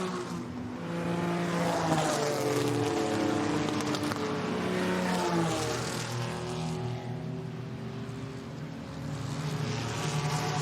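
Historic racing cars at Goodwood roar away from the start together, a loud, sustained engine blare with rising and shifting pitches as they accelerate, steady throughout with no voices.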